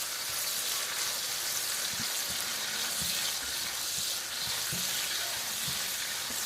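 Minced garlic frying in a pan on a stove top: a steady, close, broadband sizzle runs throughout, with a few soft low knocks from stirring or handling the pan. Nobody talks.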